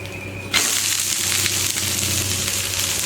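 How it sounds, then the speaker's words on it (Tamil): Ragi rava dosa sizzling loudly on a hot pan, a sudden burst of frying hiss as it is flipped after a half-second of quieter pan noise, then a steady close crackle for the rest of the clip. "இப்போ மெதுவாக திருப்பி போட்டுக்கணும்."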